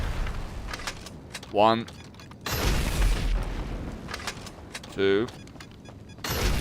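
Homing launcher rockets explode against a Mammoth Streamer 216 aircraft in GTA Online, with two loud broadband blasts about a second apart and a third at the end, each led by a rising whine. A voice counts over them.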